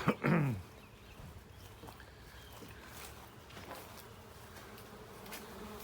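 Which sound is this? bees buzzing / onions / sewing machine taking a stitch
bees buzzing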